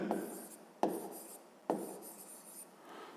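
Pen scratching across paper while working a fifth-grade maths problem, three short strokes each starting with a sharp onset and fading into soft rubbing, close and quiet with no talking.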